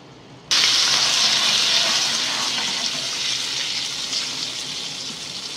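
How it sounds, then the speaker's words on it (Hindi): Full-fat, cream-rich milk poured into hot ghee with roasted cashews and almonds for sooji halwa sets off a sudden loud, hissing sizzle that stays steady and bright, slowly easing off over several seconds. "अब हम घी में फुल फैट मिल्क डालेंगे"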